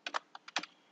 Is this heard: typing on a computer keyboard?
yes